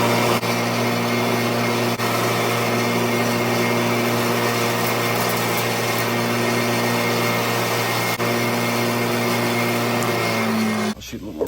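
A bench wire wheel whirs steadily at close range, cleaning a motorhome black tank level indicator part, a continuous motor drone with a bright brushing hiss that stops abruptly near the end.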